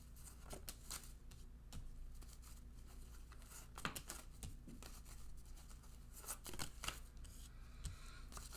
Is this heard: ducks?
no